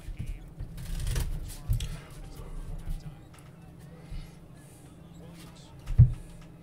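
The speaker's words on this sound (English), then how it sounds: "Saw fake shuffles." A deck of playing cards being fake shuffled in card-cheat practice, with soft riffling and flicking bursts close by, followed by quieter handling and a sharp tap near the end.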